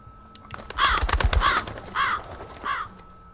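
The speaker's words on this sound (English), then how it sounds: "There's a crow." Crow cawing in a video game: a few loud, harsh caws spaced about half a second apart, close and clear over a low rumbling ambience, with no speech.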